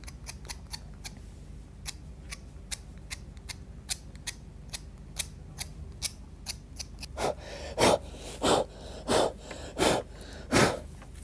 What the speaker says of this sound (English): We can just blow off the parts that aren't in the wet